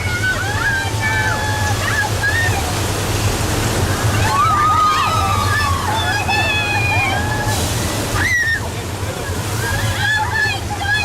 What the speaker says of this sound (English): This flood is the result of thousands of gallons of recycled water dumped down the hill.